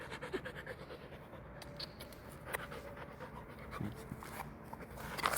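A dog panting rapidly and steadily at close range during an evening walk, quick breaths repeating over a faint outdoor background hum with a few small clicks.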